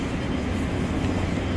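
A Moscow metro train rumbling steadily, a dense, continuous low roar of the running carriage that holds at an even loudness throughout.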